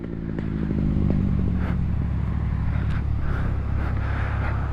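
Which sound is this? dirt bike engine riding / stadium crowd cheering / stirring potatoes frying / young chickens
dirt bike engine riding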